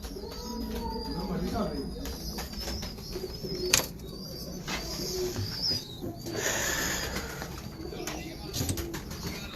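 A pure Kamagar pigeon pair and chick coo and flutter their wings, with low cooing and bursts of wing flapping over a busy background and someone talking.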